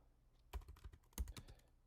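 Keys on a computer keyboard are pressed in two quick bursts of clicks while a command is typed, close and quiet, with no talking.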